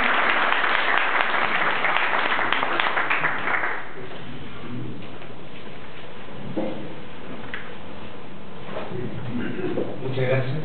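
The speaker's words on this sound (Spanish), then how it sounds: "Les pido un aplauso, por favor." Audience applause at a tribute event for an honoree, dense and loud for the first few seconds, then thinning to scattered claps under a speaker's voice.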